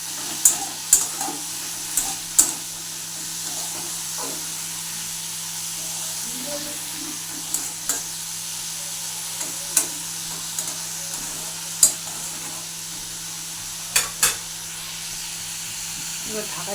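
Bottle gourd (lau) frying in a pan at home, a low continuous sizzle broken by repeated sharp clinks and scrapes of stirring spread across the whole stretch, with faint voices now and then.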